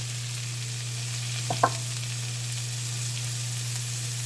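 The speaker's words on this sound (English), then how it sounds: "We got some butter in a pan. Alright, we're going to take some finely diced mushrooms with about a teaspoon of thyme" Finely diced mushrooms with thyme fry in butter in a pan, a soft even sizzle over a low steady hum, with a couple of quick utensil clicks around the middle.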